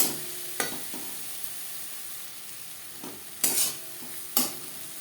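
Ginger paste, green chili paste, onion and tomato get stirred in a pan with a quiet sizzle, and a few sharp scrapes and knocks from the spoon stand out over a faint hiss.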